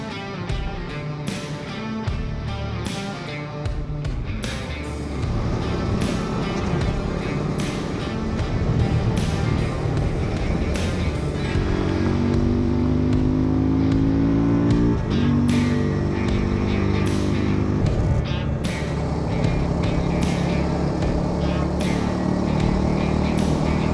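Husqvarna Svartpilen motorcycles ride off with a steady engine drone that builds as they pull away, shifting pitch through gear changes, with faint talk underneath.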